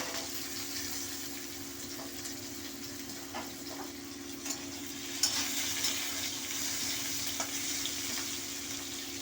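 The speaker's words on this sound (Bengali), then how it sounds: "তেলটা ভালো মতো গরম হয়ে গেছে। এবার আলুটা দিয়ে দিলাম।" Potatoes frying in hot oil give a steady, fairly quiet sizzle up close, with a few small pops and crackles scattered through.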